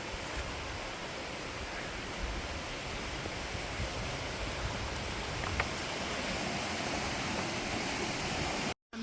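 A river rushes beside a forest trail in Mindo's cloud forest, a steady, close, broadband roar of flowing water that holds an even level throughout, with no voices and only a brief drop-out near the end.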